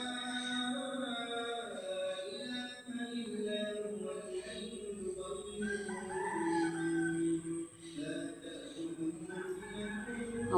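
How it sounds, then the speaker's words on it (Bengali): A rooster crows in the morning among clucking fowl and chirping birds, its calls rising over a quiet rural background with some faint voices. "মোরগের ডাকগুলো আপনাদের একটু শোনাচ্ছি।"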